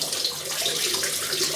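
Shaving brush rinsed under a running tap at a sink, a continuous close splashing gush of water that stays steady throughout, with no talking.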